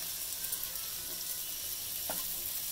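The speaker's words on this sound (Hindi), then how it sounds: "स्वीट कॉर्न लिए थे ये डाल देते हैं," Sweet corn goes into vegetable rice with carrots and bell pepper, frying in a pan over a soft, continuous sizzle with a faint clink of stirring, heard quietly without talk.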